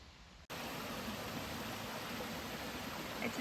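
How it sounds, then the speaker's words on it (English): A brook on the Appalachian Trail rushes in a steady, full hiss of flowing water that starts abruptly and stays constant and close, with no talking. "It's a beautiful brook."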